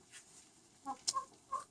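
Barnevelder and Sussex hens cluck in a few short, close bursts, with a brief higher squawk amid quiet coop background.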